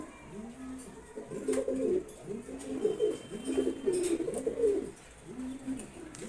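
A pair of silver gorra pigeons cooing in repeated soft, throaty bursts, close and moderately loud over light background noise.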